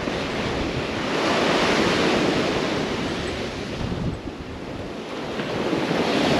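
Ocean surf washing onto a Key West beach, a steady broadband roar of breaking waves with gusty wind buffeting the microphone, loud and continuous throughout with a brief dip midway.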